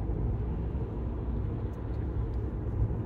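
A car passing an RV on a quiet country road: a steady low rumble of engine and tire noise, close and even throughout, with no voices.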